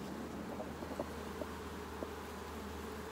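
Honey bees buzz steadily inside an open beehive, a dense continuous drone close at hand with faint soft knocks from the frames and no voices.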